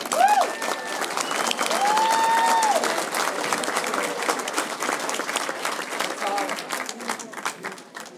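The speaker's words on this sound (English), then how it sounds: "So let's give her a round of applause." Sustained audience applause fills a hall at the annual Valley Patriot Bash in Lawrence, MA, steady and full for most of the stretch before thinning toward the end, with a few voices and whistles rising through the clapping.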